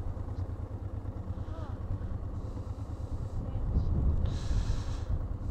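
Motorcycles roll forward past a ferry boarding queue in Norway, their low engine rumble steady and moderately close, swelling louder near the end amid wind and background bustle.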